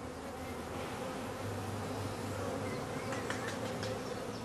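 Honeybees buzz around colour-coded nucleus hives holding young queens and their colonies, a dense, steady outdoor hum with individual bees droning past nearby.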